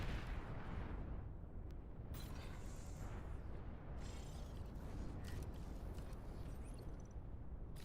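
Rumbling, continuous bombing-run explosions in the real-time strategy game Beyond All Reason, a dense low roar with repeated booms layered under mechanical clatter and no speech.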